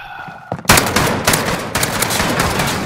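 Shotgun fire in the video game Call of Duty: Modern Warfare, a loud close blast followed by a sustained roar of rapid gunfire and echoing shots filling the remaining seconds, with no talk.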